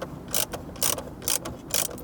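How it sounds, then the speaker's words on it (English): A ratchet on an extension loosens 10mm bolts on a 2016-2021 Toyota Land Cruiser's central control unit, making four evenly spaced bursts of rapid, close clicking. "we're going to go ahead and loosen both of these bolts"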